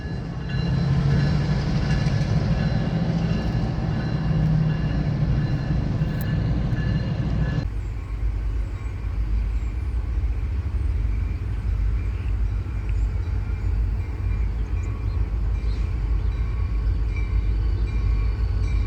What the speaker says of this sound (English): A lone Indiana Harbor Belt yard switcher.